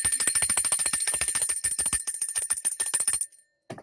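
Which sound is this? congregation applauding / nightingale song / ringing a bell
ringing a bell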